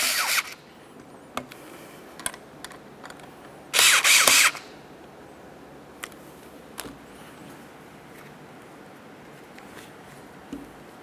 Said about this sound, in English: We're just going to make sure each of these mounting bolts is nice and tight.